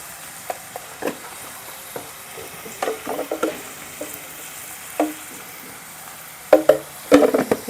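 Onions with salt and turmeric cook in a pan under a quiet sizzle, broken by scattered stirring scrapes and taps that grow busier and louder near the end.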